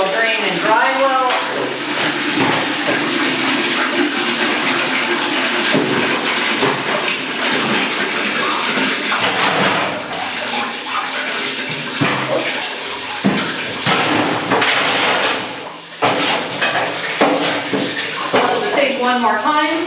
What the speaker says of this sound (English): use this acid sanitizer to rinse all these other spots